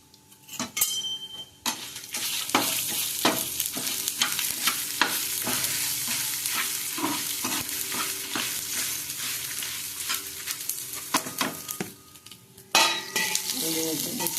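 Cumin seeds roast in a pan for fish curry, a close sizzle broken by repeated scraping and clinking strokes of a spatula against the metal.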